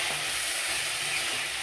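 A steady, close hiss of tadka tempering frying in a wok for dal, with a dense, even sizzle running throughout the short clip and no voices.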